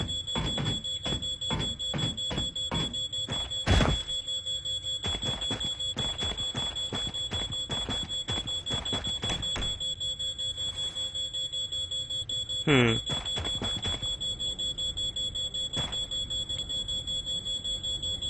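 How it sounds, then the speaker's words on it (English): A fire alarm in a paranormal video game gives a long run of rapid, steady electronic beeps that continue throughout, loud and alone, with two brief louder accents along the way. "I'm turning this fire alarm off. It's really annoying."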